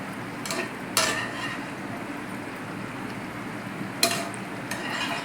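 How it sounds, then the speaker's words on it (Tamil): Fried chicken is added to simmering gravy in a pan: soft sizzling, a couple of sharp clinks and stirring scrapes over the steady bubbling. "இப்போ நம்ம பொரிச்ச சிக்கனை இதில் போட்டுக்கலாம்"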